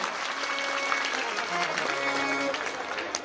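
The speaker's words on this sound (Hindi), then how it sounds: "चलिए एक बार ताली इनके लिए तो बजा दो जिन्होंने आज संकल्प किया" Audience applause at a Shrimad Bhagavat Katha religious gathering in Gaurihar, dense steady clapping filling the hall with a murmur of voices mixed beneath it throughout.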